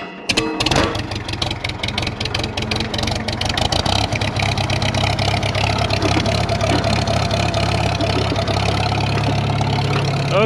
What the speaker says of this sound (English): that actually took a lot of cranking for this tractor